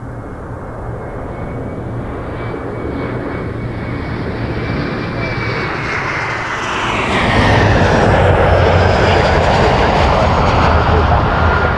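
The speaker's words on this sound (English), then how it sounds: "Embraer 175 LR, Republic Airways, Brickyard 3551, coming in from Newark for United Express." An Embraer 175 LR airliner of Republic Airways flying as United Express, coming in to land at Toronto Pearson, a steady engine roar that swells louder and closer as it passes, with talk over it.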